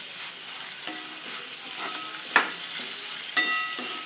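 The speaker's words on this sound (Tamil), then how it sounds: "கொஞ்சம் லைட்டாக வதங்கட்டும்." Onions and tomatoes sautéing for rajma masala give a soft, continuous sizzle in the pan, with a spoon stirring and scraping and two sharper clinks against the metal.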